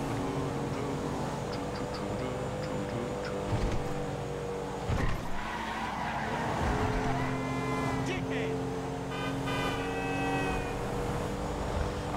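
Fast car racing along in Grand Theft Auto V, engine roaring steadily with a couple of bumps and crashes partway through, while someone talks over the driving.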